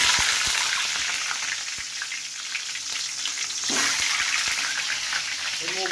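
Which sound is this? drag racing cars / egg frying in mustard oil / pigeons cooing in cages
egg frying in mustard oil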